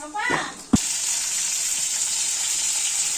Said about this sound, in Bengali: মাছ রান্না করছি